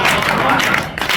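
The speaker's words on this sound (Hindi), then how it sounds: "बजा लो थोड़ी सी तालियां" Audience at a Hindi poetry gathering breaks into a brief burst of dense clapping, loud and close, filling the whole short moment.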